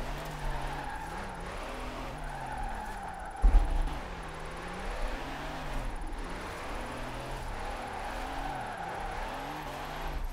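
A truck engine in Forza Horizon 4 revs and bogs repeatedly while drifting uphill, rising and falling in pitch with tire scrub and a sharp bump midway, loud and continuous.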